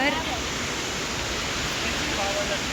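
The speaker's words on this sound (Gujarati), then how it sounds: "આ પાણી અહીંયાથી નીચે જઈ રહ્યું છે પહાડો ઉપરથી, પથ્થરોની અંદરથી એ આવે છે" Water rushes down from the mountains over rocks in a Kerala jungle river, a loud steady broadband roar with no break, close and continuous.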